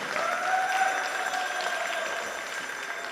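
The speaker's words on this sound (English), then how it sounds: "give a big round of applause" A small audience claps together in a steady patter that stays even and then eases slightly toward the end, at the 2024 Rathayatra festival in Cork, Ireland.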